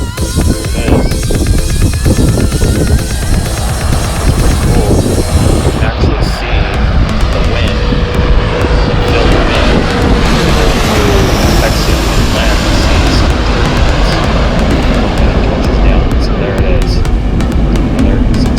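A jet airliner on approach to Reagan Airport roars low over Gravelly Point, a loud sustained rumble with a shifting whine that swells and lingers throughout, with no one speaking.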